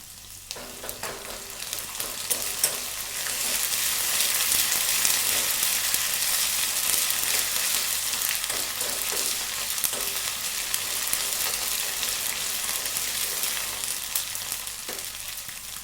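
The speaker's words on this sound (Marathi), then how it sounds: "आता टाकते लसूण अद्रक सांबाराचा पेस्ट." Garlic, ginger and coriander paste fries in a pan with a loud, steady sizzle and crackle that runs unbroken throughout, with no talking.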